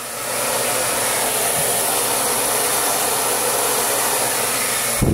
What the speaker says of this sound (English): I'm going to use my hairdryer one more time.